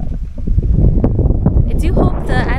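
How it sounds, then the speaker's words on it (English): Strong wind buffets the microphone in loud, rumbling gusts while someone talks over it, with a brief rustling flutter near the end, on Siargao in the Philippines. "I do hope the anti-wind of this camera is working because it's very windy"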